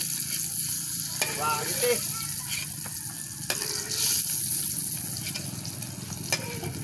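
String bean omelette (tortang sitaw) sizzling steadily in a frying pan, a loud continuous crackle with occasional scraping clicks, while a voice speaks briefly over it.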